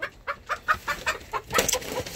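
Chickens cluck in a coop bedded with wood chips and shavings, a quick run of about ten short, close clucks in an uneven rhythm.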